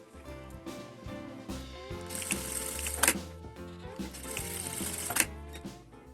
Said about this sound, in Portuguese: E vou passar uma costurinha aqui pra fechar e uma costura paralela aqui pra dar o acabamento.